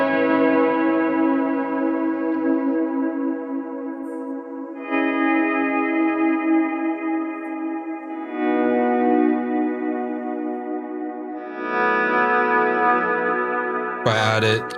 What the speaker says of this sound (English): This like anti-shimmer kind of sound, big swell sound.